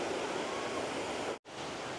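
Water rushes steadily at Khlong Nam Lai waterfall in Kamphaeng Phet, a dense, continuous roar with a brief break near the end and no talking.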